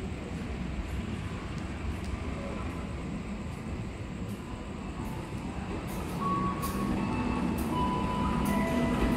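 A commuter train rumbles through a busy Jakarta railway station, a steady, moderately loud mechanical roar that swells near the end, with brief high warning tones and short clanks layered over it.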